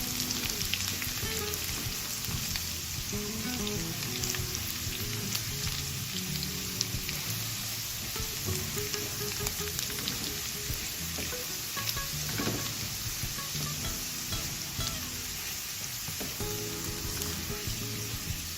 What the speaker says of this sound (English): Going to stir.